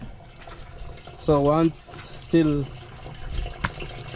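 Water running from an opened tap in a village in Kwale County, Kenya, a soft steady splashing beneath a voice that speaks twice over it.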